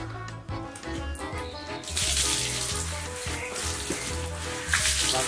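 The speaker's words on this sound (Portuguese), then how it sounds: "tem que jogar água desse lado" Water splashes and pours over a horse during its bath outdoors, a continuous rushing, spattering flow that grows louder and fuller partway through, close by and with no talk.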